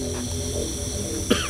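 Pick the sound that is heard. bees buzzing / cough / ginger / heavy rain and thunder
cough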